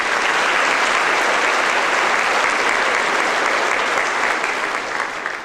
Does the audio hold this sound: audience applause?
yes